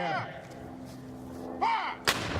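A muzzle-loading artillery gun fires a round at a historical demonstration at Jamestown, a sharp loud blast near the end after a stretch of background activity, with a brief louder burst just before it.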